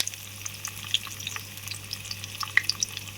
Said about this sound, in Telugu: సో ఆవాలు వేసుకుంటున్నాం ఫస్ట్. నెక్స్ట్ వచ్చేసి మిగతా వేసుకుంటున్నాము. కరివేపాకు, పచ్చెనపప్పు,